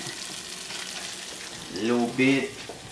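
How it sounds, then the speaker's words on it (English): Butter hits a hot pan while mussels cook, giving a steady soft sizzle. Near the end a voice cuts in briefly over the sizzle. "Now it's time for me to drop the butter."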